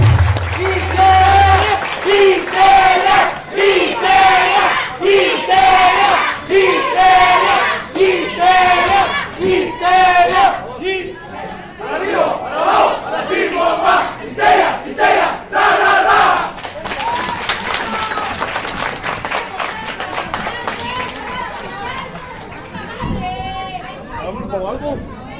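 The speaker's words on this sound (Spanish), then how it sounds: "Denme un fuerte aplauso al señor Pablo Romero" A crowd at a lucha libre wrestling arena claps and cheers loudly, with shouts and roaring voices rising in bursts over dense applause, then thinning toward scattered cheers and chatter near the end.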